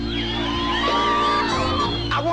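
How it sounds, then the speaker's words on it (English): A crowd at an event screams, whoops and yells in unison, loud and sustained with many overlapping voices throughout. "I want to hear you scream."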